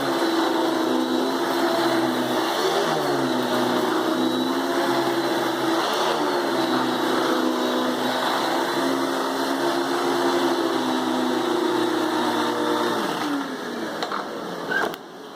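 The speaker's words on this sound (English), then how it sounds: "I'm going to do a lot more vacuuming" A Hoover Dimension 1000 vacuum cleaner running in a house, with a loud, steady motor whine and airflow that holds throughout, shifting slightly as it moves and dropping near the end, with no talking.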